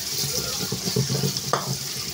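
Onion and green chili frying in oil in a wok (kadai) while cooking prawns with bottle gourd leaves, giving a steady soft hiss of sizzling with a few light stirring clinks, close and continuous.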